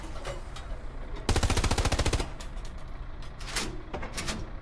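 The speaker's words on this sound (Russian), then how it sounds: "Не выезжай, он по нам стреляет." A rapid burst of enemy machine-gun fire in the World War II shooter Hell Let Loose, loud and close for about a second, with lighter scattered shots and rumbling vehicle noise before and after.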